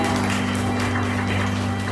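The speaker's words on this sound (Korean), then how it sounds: "네, 큰 박수 부탁드립니다" Guests at a wedding ceremony applaud after the two mothers greet each other, a steady, even wash of clapping held at one level over a low background hum, with no voices on top.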